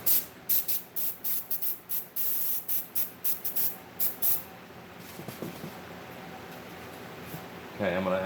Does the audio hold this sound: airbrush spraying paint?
yes